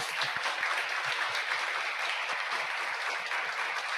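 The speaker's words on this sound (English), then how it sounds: "Por favor, un aplauso de nuevo para ellos." Steady, dense applause from a crowd, continuous and fairly loud for the whole stretch, with no voices standing out.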